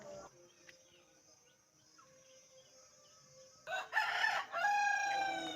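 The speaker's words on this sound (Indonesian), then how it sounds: "Di sana tuh di pojokan ada kandang ayam." Chickens in a coop for newborn chicks at the corner of a house terrace, a quiet stretch of faint clucking followed by a loud, close rooster crow with more fowl calls after it.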